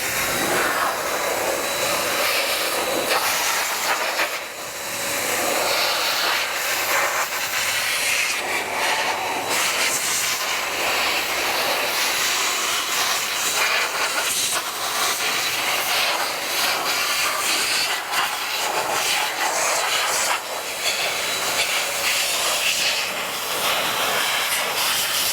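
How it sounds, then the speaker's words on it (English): Metro Sidekick Blaster air dryer blasting water off a BMW M3's engine bay and bodywork, a loud, continuous rushing hiss of air that holds steady with slight surges for the whole stretch, no voices. "let's turn on our Metro Sidekick Blaster"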